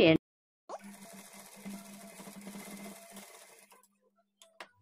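A sewing machine runs a rough stitch along the edge of a blouse, one continuous whirring burst of a few seconds that stops abruptly and is followed by near silence with small clicks.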